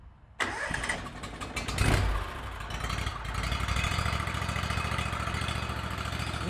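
Kawasaki IGX800 engine with a newly installed high pressure fuel pump cranks and fires up, revving briefly before settling into a steady, close idle that runs on alone.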